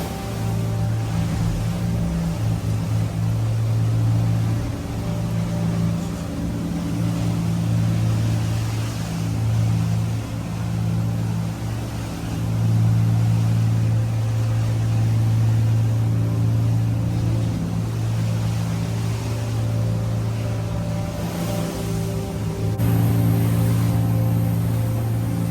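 A motorboat runs through a building sea, with a southerly current pushing against the wind: a steady, loud engine drone with a constant low hum and slight swells of water noise, and no voices.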